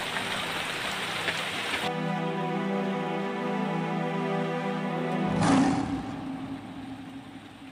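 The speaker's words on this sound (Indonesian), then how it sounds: "Sudah sekian lamanya tidak ada hujan, alhamdulillah sekarang hujan turun." Rain falling outdoors during a fishing trip cookout, a steady hiss of rainfall with a low droning hum underneath, fairly faint and continuous, no voices.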